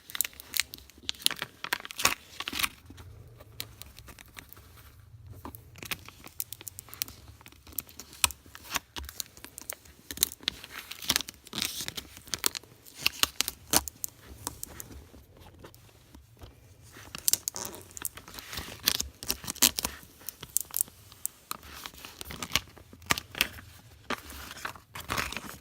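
Pastel unicorn-pattern self-adhesive vinyl is peeled off its backing sheet in bursts of crackly tearing and crinkling, soft and close, with short pauses between pulls.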